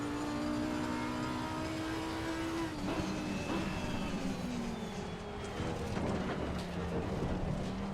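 GT race car engine in Assetto Corsa Competizione at Imola, a steady droning exhaust note with shifting pitch as revs rise and fall through gear changes, continuous and fairly loud, without talk.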